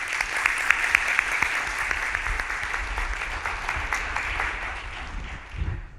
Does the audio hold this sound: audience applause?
yes